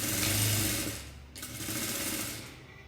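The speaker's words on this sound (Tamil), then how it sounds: "நான் ஓரத்தில் மடக்கி கொடுத்து இப்படியே ஸ்டிச் பண்ணிட்டு வாங்க" A sewing machine stitches along folded blouse fabric edges, a close continuous mechanical whir that runs in two stretches with a brief dip between them.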